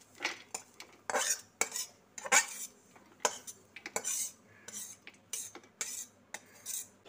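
A metal spoon knocks and scrapes against a pan while fried coconut and dry fruits are tipped into roasted semolina, giving a run of sharp, close clinks and stirring scrapes in an irregular rhythm.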